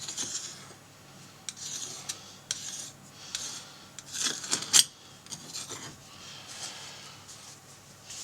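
Soft rubbing and wiping strokes with a paper towel, clearing glue residue from a 1990-1996 Corvette LCD, quiet and close, with a few brief scrapes and crinkles of paper.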